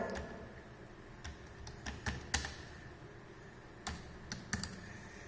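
Computer keys pressed one by one while entering drawing commands, a sparse run of light, close clicks and taps with uneven pauses over quiet room noise.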